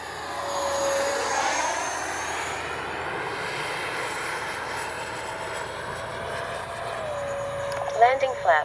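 A 64mm EDF RC jet model of a MiG-29 makes a low gear pass, its ducted-fan whine sweeping by steadily, then rising sharply near the end as it passes close.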